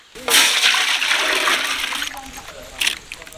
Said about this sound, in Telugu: మంచినీళ్ళు పోతాను